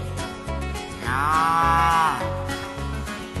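A cow in a cattle truck gives a long, loud moo in the middle, with shorter lowing calls and steady low rumbling before and after.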